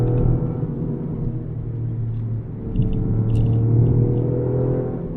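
Toyota GR Yaris being driven, a steady low engine and road drone that runs on without a break and swells a little louder partway through, with no one talking over it.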